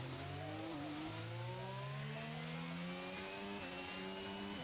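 Race car engine in a racing video game accelerating out of the pit lane, a loud continuous rising whine with gear changes, steady and close throughout.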